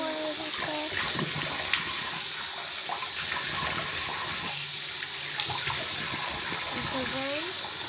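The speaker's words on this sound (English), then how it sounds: "So now, I just rinse off all the soap." Tap water runs steadily into a sink while soap is rinsed off a face, a continuous close splashing wash with small shifts in flow and occasional hand splashes, no talking.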